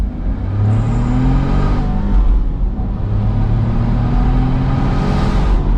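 A Smart ForTwo 451 cabrio pulls away and accelerates, its small engine droning and rising through gears in two long pitch sweeps, heard steadily from inside the car with no talk.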